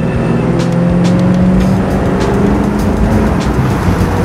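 A 1972 Holden HQ Statesman with a factory 350 Chevy V8 running, a deep, loud, steady engine rumble close by with a constant low throb and no speech.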